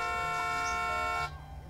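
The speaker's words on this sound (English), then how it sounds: "Why is it still honking?" A car horn sounds in The Sims life-simulation game, a steady held honk with layered tones lasting just over a second before cutting off, leaving faint background game ambience.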